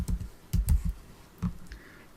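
Keys tap on a computer keyboard while remedy names are entered into search software, giving a few quick close clicks in small bursts separated by brief pauses, quiet and alone.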